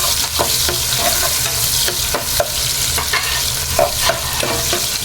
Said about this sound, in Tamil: ஸோ வெங்காயத்தை நல்லா வதக்கிக்கலாம்.